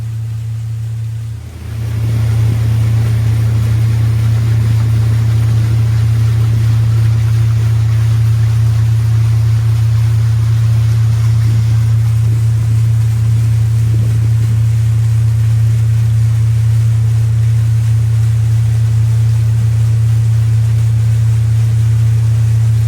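An outboard boat engine drones steadily and loudly on the shallow Fox River near Lake Puckaway, with a brief dip at the start before settling into a constant low hum with water wash.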